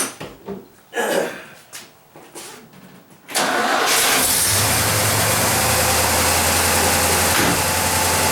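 A 1964 Oldsmobile 98 with a freshly swapped carburetor cranks, then its engine catches and settles into a loud, steady idle. Brief talk and clatter come before the start.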